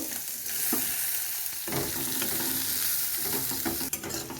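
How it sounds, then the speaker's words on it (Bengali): Onion sizzling in hot oil in a kadai, a dense continuous frying hiss with scraping stirs of a spatula, close and steady throughout. "এবারে পেঁয়াজটাকেও একটু লাল করে ভেজে নেব।"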